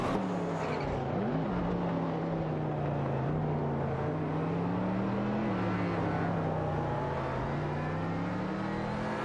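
Ferrari 512 TR race cars battling on a video game track, a continuous loud engine drone that rises and dips gently in pitch as the cars jostle for position, no voices.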